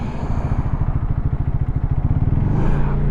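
390 motorcycle riding along a road in the Florida Keys, a steady close engine drone with rapid pulsing and wind rumble, rising slightly in intensity near the end.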